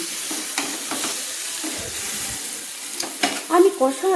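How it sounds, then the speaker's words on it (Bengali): Cumin and coriander powders sauté with vegetables in a pan, a steady near sizzle under light scraping, then a few louder clattering spatula strokes toward the end; no one talks. "আমি মশলাগুলো দিয়ে সবজির সঙ্গে আমি কষিয়ে নিচ্ছি"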